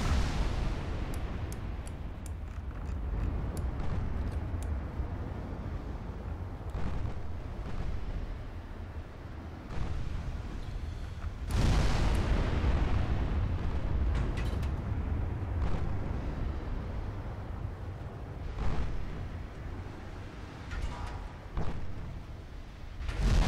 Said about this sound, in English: Nothing stands a chance against these 20-inch guns.